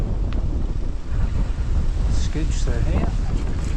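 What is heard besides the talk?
wind blowing against mountain bike rider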